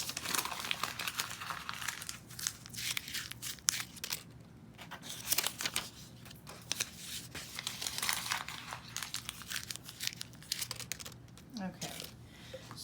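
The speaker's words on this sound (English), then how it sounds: "I want you to crumple them up into paper balls, like so." Paper squares being crumpled by hand into small balls, a continuous close crinkling and crackling that comes in bursts for several seconds while a person speaks over it.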